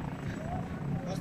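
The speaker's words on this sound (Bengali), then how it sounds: "প্রত্যেক 3 সেকেন্ডে হয়তো একটা করে হেলিকপ্টার নামছে।" A helicopter descends toward the Kedarnath helipad in the Himalayan mountains, making a continuous low, throbbing rotor drone that fills the background beneath nearby voices.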